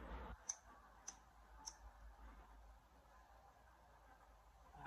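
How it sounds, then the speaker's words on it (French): A hand lighter clicked three times in quick succession while being readied to burn paper, sharp faint ticks spaced about half a second apart over quiet room noise. "brûler le papier, je vais prendre mon briquet"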